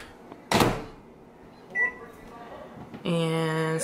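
Green beans for baby food go into a kitchen microwave oven: a door thud, then a short beep, then the steady, loud hum of the oven running through the final second.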